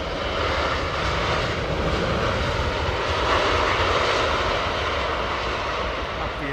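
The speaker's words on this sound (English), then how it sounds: "Is this United jet going out? She's got Pratts on her, so it won't be a very loud start-up." A United jet airliner with Pratt & Whitney engines roars at Heathrow, a loud, steady broadband rumble heard close by throughout, with no speech.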